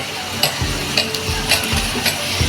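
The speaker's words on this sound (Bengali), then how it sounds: "নেড়ে চেড়ে নিচ্ছি।" Ilish pulao stirred in a cooking pot, with a continuous soft sizzle under a series of clinking, scraping strokes of a spoon against the pot at a steady rhythm, close and without talk.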